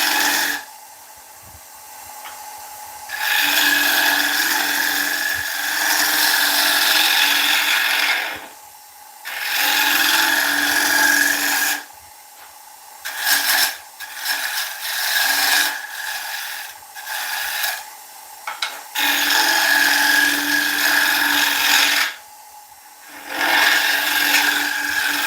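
Bowl turning on a wood lathe with a shear cut: steady raspy tool-on-wood cutting in long close passes, broken by short pauses where the tool lifts off, no talk.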